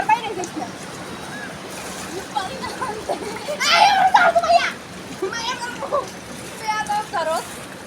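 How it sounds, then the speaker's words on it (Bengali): Two young sisters swimming in a swimming pool, with continual water splashing and splatter nearby, rising to a louder burst midway, while children's voices chatter over it. "দুই বোন সাঁতার কাটতেছে সুইমিং পুলে"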